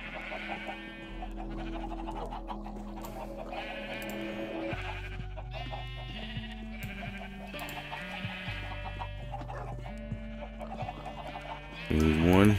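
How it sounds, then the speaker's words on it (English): Sheep in a Minecraft-style video game bleat repeatedly in short, wavering calls, overlapping with other game sounds and tones throughout, ending with a louder burst. "Sheep."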